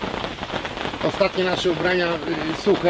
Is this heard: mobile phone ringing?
no